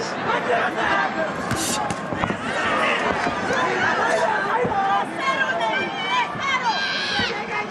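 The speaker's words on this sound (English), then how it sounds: "As you can hear this massive crowd in Tokyo trying to rally support for their hero." Huge boxing crowd in a Tokyo arena roaring and chanting in support of Naoya Inoue, a dense continuous swell of voices with a commentator talking over it.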